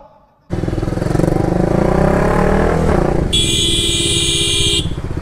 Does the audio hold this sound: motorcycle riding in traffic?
yes